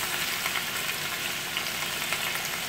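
Chicken frying in a pan on a stovetop beside mushrooms, giving a steady bright sizzle with crackling pops that holds evenly throughout.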